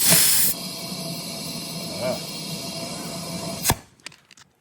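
A steady, loud hiss of air rushing out of a small front tire on a Cub Cadet mower while inflating continues for several seconds, then cuts off abruptly, followed by a few small clicks and knocks.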